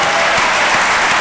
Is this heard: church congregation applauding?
yes